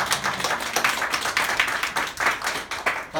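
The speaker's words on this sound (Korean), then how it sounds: "박수." A church congregation claps together in a room, a dense run of hand claps with an uneven rhythm that holds steady, fairly loud and close, with no talking over it.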